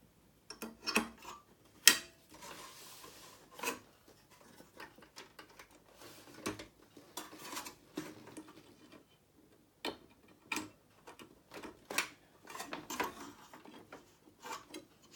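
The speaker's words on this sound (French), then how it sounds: "je vais tourner la douille" Someone turns the socket of a fluorescent tube lamp holder by hand: quiet intermittent plastic clicks, ticks and rubbing scrapes in short bursts with pauses between them.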